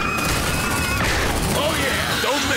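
Gunfire in the sci-fi game Aliens: Dark Descent, a dense burst of shots and impacts over continuous game noise, with a person talking over it.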